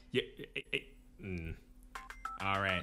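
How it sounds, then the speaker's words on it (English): A mobile phone rings with a short tonal ringtone burst near the end, right after a man's casual speech. "Hold on. That's my phone."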